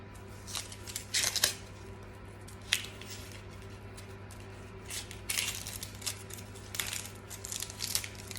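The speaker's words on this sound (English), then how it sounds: "cut it straight through the root, like that. And then we can peel each side" An onion being cut straight through the root with a kitchen knife and then peeled: scattered close crunches, snaps and papery crackles over a steady low hum, with quiet gaps between.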